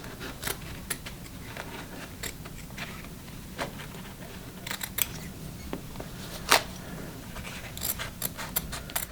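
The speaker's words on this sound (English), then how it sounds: "you can peel away your fusible interfacing like this, and you can trim it a little bit closer" Scissors trim fusible interfacing close to the stitching of a repaired belt loop, making quiet, sharp, irregular snips and clicks against faint background hiss.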